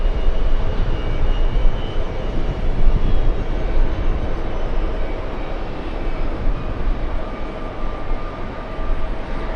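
A fixed-wing airliner arriving from the Bahamas at JFK Airport, a loud, steady engine roar with broad rumbling noise that holds throughout, fairly near.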